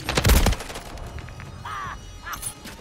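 A loud burst of rapid video-game gunfire erupts in Call of Duty on the Rust map, fading into scattered distant shots and brief electronic effects with no talking.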